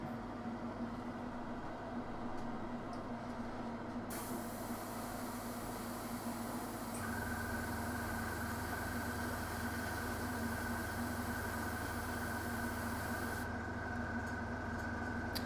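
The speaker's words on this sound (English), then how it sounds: "I'm running this at 15 psi. I'm keeping the airbrush back so far." An airbrush spraying paint at 15 psi gives a steady, continuous airy hiss close to the microphone, holding unbroken for the whole stretch with a slight shift in tone partway through.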